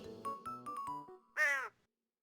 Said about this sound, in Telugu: రెండు కొంగలు తీసుకుపోతున్న తాబేలును కాకి చూసి కావుమని అరిచే